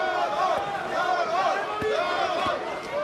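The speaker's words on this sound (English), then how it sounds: "cheering on Mirko Cro Cop while other fans are cheering on the champion" Croatian fans at an MMA fight roar and chant for Mirko Cro Cop, a continuous crowd din with rising and falling shouted voices over the arena hubbub.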